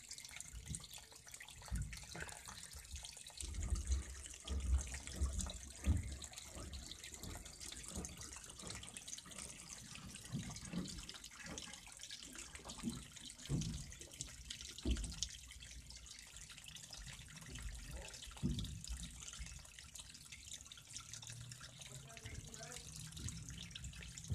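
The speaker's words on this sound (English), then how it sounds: "Water's coming out." Water runs out of a plumbing plug connected to a toilet, a steady faint splashing and trickling stream with scattered drips and low thumps, continuing throughout at a quiet level with some background noise.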